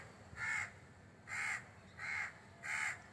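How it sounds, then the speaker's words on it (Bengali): A crow caws four times in slow, evenly spaced calls near a house railing, each harsh caw clear and moderately loud over a low background hum, with no talk. "এবার দেখো কাকটা কিন্তু ডাকছে"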